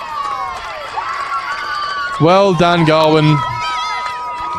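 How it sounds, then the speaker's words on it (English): Cheering crowd at a rugby union divisional grand final erupts into loud shouts and whoops that swell briefly, under and around a commentator's voice talking continuously. "And the crowd has gone absolutely nuts."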